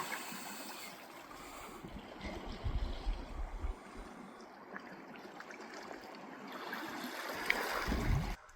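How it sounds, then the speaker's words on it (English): Gentle water laps on a lagoon beach, soft low swishes and splashes at moderate distance, faint and calm with a slight swell toward the end. "Beach here, very calming, lapping."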